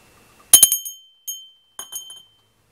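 A small hand bell rings three times, each strike bright and clear with a short shimmering decay, close by with quiet between rings.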